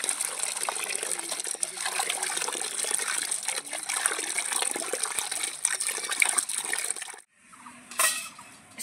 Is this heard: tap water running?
yes